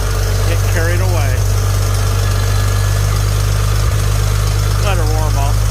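A Farmall 756 tractor engine idles as it warms up, a loud, steady low rumble throughout, with someone speaking over it at times.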